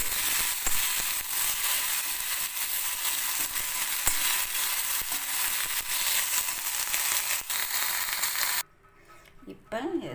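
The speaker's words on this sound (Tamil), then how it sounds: "இப்போ இந்த கருவேப்பிலை கொஞ்சம் வறுத்துடுவோம், லைட்டாக வறுத்துடுவோம்." Curry leaves roasting in a pan for coriander seed thambuli give a steady, bright frying hiss with small crackles for most of the stretch, then cut off to near quiet at the end.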